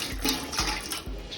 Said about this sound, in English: You've poured a little bit of the chicken broth into the pot